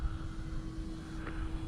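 A Carmanon OH-58 model helicopter flies overhead with a steady, continuous engine and rotor drone that holds level throughout, with no talking.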